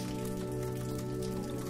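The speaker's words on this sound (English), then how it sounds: "as the rain continues its tender lullaby" Steady rain falls outside a window in a village, a continuous even patter with a faint low hum beneath.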